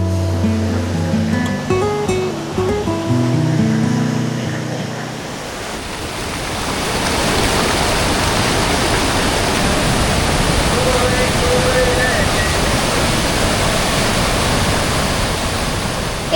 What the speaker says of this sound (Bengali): এই যে এখানে এই ঝর্ণাটা দেখতে পাচ্ছেন